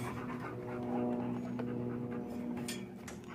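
Dogs in a home kitchen panting steadily and close, a continuous rhythmic huffing that runs through the whole stretch with no talk over it.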